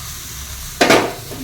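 Onion and tomato pieces dropped into hot oil, a sudden loud sizzle bursting in near the end and hissing on close and steady after a quiet lead-in.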